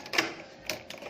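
Armored security door bolts being locked with a key, giving a few sharp mechanical clacks: one louder cluster near the start, then two lighter clicks close by with no voices.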